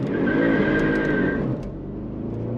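A tuned Audi RS7 launches hard, its engine roaring loud and close as it revs up, with a brief high whine before the note drops and settles into a steady pull.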